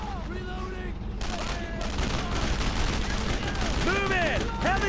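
Sustained heavy gunfire in a World War II firefight against German paratroopers in Brothers in Arms: Road to Hill 30, a dense continuous rattle with rising whistling sweeps, mixed with battlefield noise and shouted voices.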